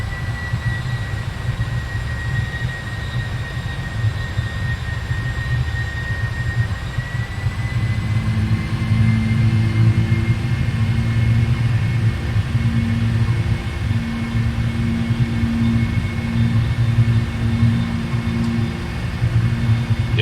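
Boeing 747-400 jet engines during a go-around in a flight simulator game, a constant loud rumble and roar with steady whining tones that swell midway and hold.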